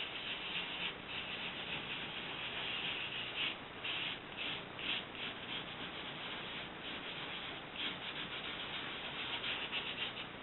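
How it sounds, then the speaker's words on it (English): Blue velvet glitter rubbed and burnished onto sticky adhesive tape for a card front panel, a steady close scratchy rubbing with soft pulsing strokes, no voices. "sprinkle it down, burnish it into the tape."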